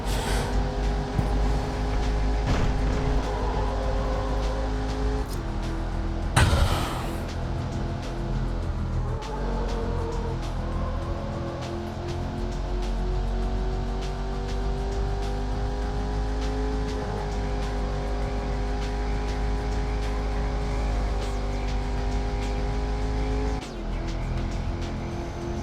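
A car engine in the PS1 racing game Need for Speed High Stakes drones steadily, rising and shifting in pitch through gear changes, with a brief tire-screech-like burst partway through.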